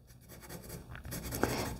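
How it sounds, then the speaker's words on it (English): Graphite pencil scratching across paper while sketching the beak and head of a realistic bird drawing, a steady close-up scraping that grows a little louder and ends with a sharper stroke. "you could see how I went over my shape with my pencil"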